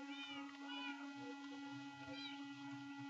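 Faint, thin meows from a kitten, two or three short rising cries over a steady low electrical hum, distant and quiet.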